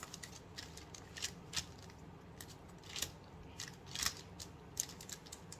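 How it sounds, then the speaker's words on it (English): Cardfight Vanguard cards being drawn from a deck, quiet close-up papery snaps and slides at irregular intervals over a low background hum. "let's start out this drawing 5 cards"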